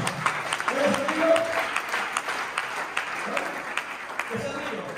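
Church congregation claps during a service, a steady mass of hand claps under ongoing voices that talk through it.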